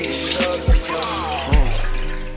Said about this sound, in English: Swish it around, get all that starch off the rice.